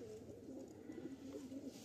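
Pigeons coo nearby in warm weather, a soft, low, rolling call that repeats steadily and faintly against quiet background hiss.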